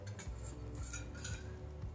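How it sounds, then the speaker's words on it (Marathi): Gram flour (besan) being roasted in ghee in a pan for coconut karanji, with repeated metal spoon scrapes and clinks against the pan in an irregular rhythm, close and without talk. "आपण त्याच्यात आता बेसन भाजतो."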